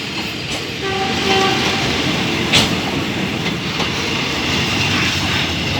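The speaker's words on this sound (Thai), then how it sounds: "ขบวนที่ 261 ก็ได้ออกจากสถานีรถไฟฉุกทางบางซื่อแล้ว" Ordinary train 261, running from Bangkok to Hua Hin, pulls out of Bang Sue Junction station with a loud, steady rumble of wheels and carriages, a brief horn note and clattering track noise.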